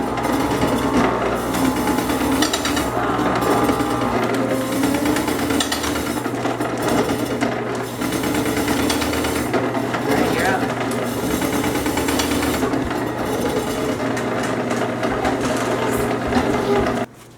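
A block-trimmed slab of cold-smoked homemade bacon is sliced into even-length strips, with a steady, loud mechanical whirring and grinding that runs unbroken until it cuts off at the very end.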